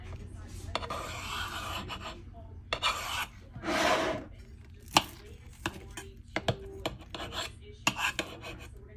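Crispy oil-fried Mosul kibbeh being broken open, giving close, dry crackling and crunching bursts with scraping rustles, a few sharper snaps, and quiet gaps between them.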